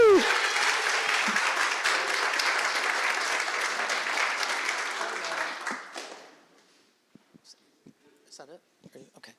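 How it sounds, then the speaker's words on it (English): Audience applause at a regular council meeting, a dense, loud burst of clapping and cheering lasting about six seconds before fading out, followed by scattered faint clicks and shuffling. "Let's give them a big round of applause"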